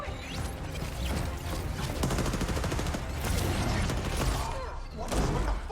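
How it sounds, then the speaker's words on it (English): Rapid volleys of fireworks crackle and pop in dense, overlapping bursts, continuous and loud against a busy noisy background. "What is with the fireworks?"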